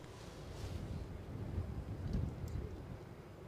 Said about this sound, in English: My notebook has blown off the table, so that's a good sign that the wind is picking up.